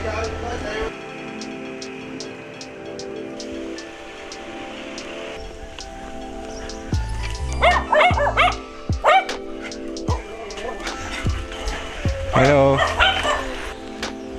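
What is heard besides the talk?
small dog barking and whimpering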